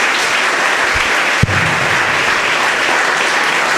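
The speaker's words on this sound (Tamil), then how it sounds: "அவங்களுக்கு இன்னொரு கைத்தட்டல் கொடுங்க." Sustained, steady applause from the audience at a Tamil Pongal festival debate forum, a dense clapping wash with one sharp crack near the start and no speech.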